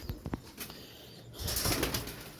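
A female French pigeon flaps its wings in a few quick, close bursts of fluttering, with a sharp rustle of feathers and no talking.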